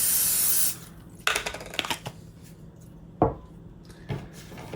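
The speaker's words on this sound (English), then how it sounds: "Next, I need to spray this cooking tray." A short hissing burst of cooking spray onto a tray for an egg maker at the start, followed by several light clicks and knocks of handling the tray, no voices.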